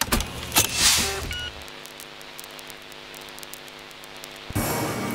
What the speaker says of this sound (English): Sorry for the noise. There's a robot vacuum over there.